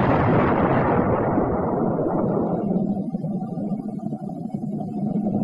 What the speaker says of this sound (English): the high-explosive anti-tank shell for jobs like this